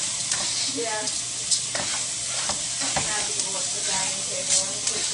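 Garlic fries in olive oil over high heat with a steady, dense sizzle and crackle, punctuated by small pops and stirring scrapes, while faint voices murmur in the background.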